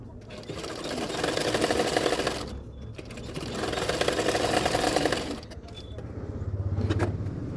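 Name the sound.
sewing machine stitching a blouse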